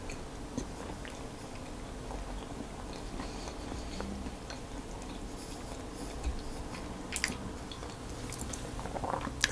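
Someone chews a bite of homemade cheese and potato pie baked in a tart tin, with close, soft, steady mouth sounds and faint squishy crunches running through, no talking.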